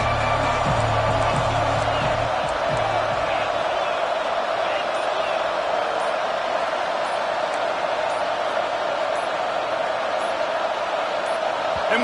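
Steady roar of a stadium crowd cheering in a college football video game, loud and continuous throughout with whoops rising from the din, while a low voice talks over the opening seconds.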